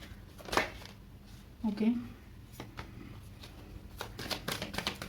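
Tarot cards being handled and shuffled at a reading, with soft riffling, flicks and slides of cards, while someone talks over them.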